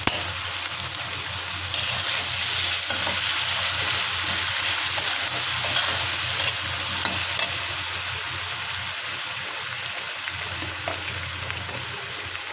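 Eggplant frying with salt, turmeric, chili and ginger, a dense continuous sizzle with soft stirring underneath, steady and close throughout.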